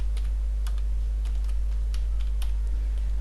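Rapid keystrokes tap out a new user password on a computer keyboard, a steady close run of clicks over a constant low electrical hum, with no voices.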